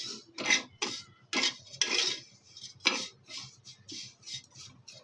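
Vermicelli roasts in ghee in a pan while a spoon stirs it in bursts of close metallic scraping and clinking, separated by short pauses.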